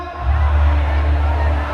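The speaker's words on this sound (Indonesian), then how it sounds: "Ya, terima kasih tepuk tangan." Crowd noise from the audience at a church Christmas celebration held in a hall in Serang, a loud, steady wash of cheering and murmuring voices throughout.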